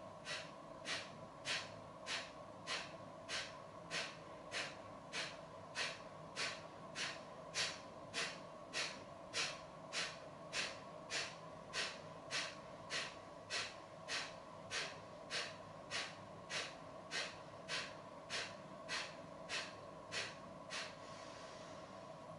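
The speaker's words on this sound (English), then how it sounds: "So we shall do three rounds of 36 exhales, taking a deep breath in, and do it in your own time." Rapid, forceful nasal exhales during a yoga breathing exercise, roughly thirty evenly spaced sharp puffs at a steady quick rhythm, close and fairly quiet.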